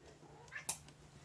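A cat meows once in a kitchen, a short, faint mew over quiet room hum.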